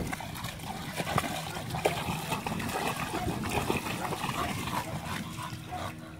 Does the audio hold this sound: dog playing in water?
yes